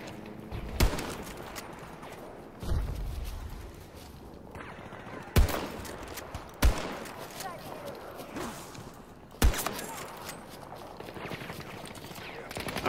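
Gunshots ring out in a western-themed video game, sharp and loud, spaced several seconds apart, with game sounds in between.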